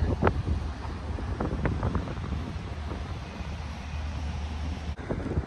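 Open-air wind over the Rhone river near Arles blows as a steady, moderately loud rush, with scattered faint clicks and knocks and a brief dip near the end.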